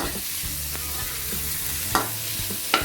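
Pork and shrimp stir-fried in a pan, with a steady close sizzle of oil and occasional scraping strokes of a spatula against the pan.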